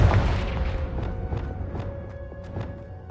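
A Confringo blasting spell explodes in Hogwarts Legacy, a heavy booming blast at the start followed by a rumbling decay, with faint tonal game effects and small pops lingering underneath.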